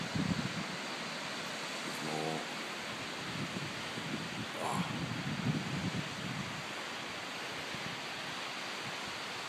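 Gentle waves wash onto a beach on South Harris in the Outer Hebrides as a soft, steady hiss of surf and breeze, fairly faint and constant, with a few small bird-like chirps and rustles over it.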